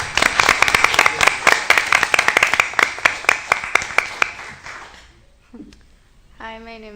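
An audience at a Board of Education meeting applauds students with a burst of dense clapping that tapers off over several seconds, followed by a short pause and then a voice beginning to speak.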